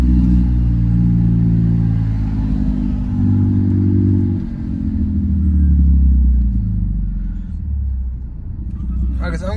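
Straight-piped Mercedes W204 C300 exhaust on downshifts, loud deep droning rumbles that rise and fall in pitch with each gear change, heard from inside the car.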